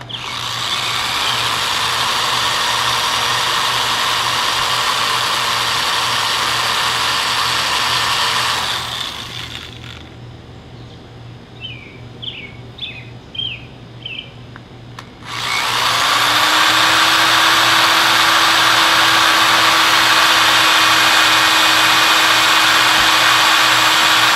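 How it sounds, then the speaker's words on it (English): An electric drill whirs loudly and steadily while thread grafting a Chinese elm bonsai, stops for several seconds with a few faint clicks, then starts up again and runs continuously. "Start the drill."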